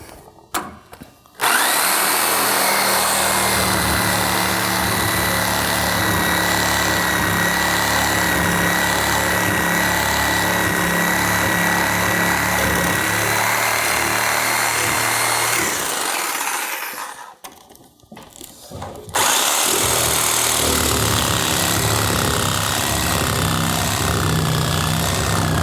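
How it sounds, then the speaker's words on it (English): A reciprocating saw buzzes loudly and continuously through wooden wall studs, making two long cuts separated by a brief pause. "we'll just take the sawzall blade and go right along our shoulder stud"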